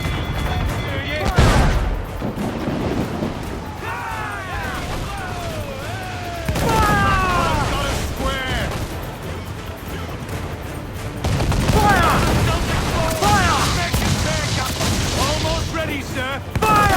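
Pirate ship cannons fire in a naval battle in Assassin's Creed IV Black Flag, loud rolling volleys of booms in bursts, with shouted orders and a musical score layered over the gunfire.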